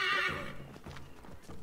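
A horse in Assassin's Creed III lets out a loud, high neigh, followed by a quick run of galloping hoof clops, all within a brief moment.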